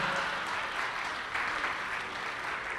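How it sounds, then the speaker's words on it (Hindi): An audience at a Hindi poetry recital (mushaira) breaks into sustained applause, a loud, continuous wash of many hands clapping together with no voices over it. "अच्छी लगे तो ताली बजा दें"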